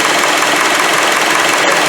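Honda CR-V engine with a leaking variable timing filter seal runs steadily at close range, a loud, even, hissy whir with no clear rhythm and no voices.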